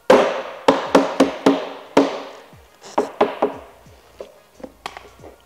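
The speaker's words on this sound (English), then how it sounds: "So all you need to do is grab your hammer." Soft face hammer tapping a front splitter flush on a Mk5 Toyota Supra, about a dozen sharp close knocks in uneven clusters, each ringing briefly before the next.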